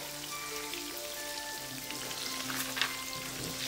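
Chicken 65 pieces fry in hot oil, crisping on the outside, giving a steady, even crackling sizzle with faint spatters and a few sharper pops near the end.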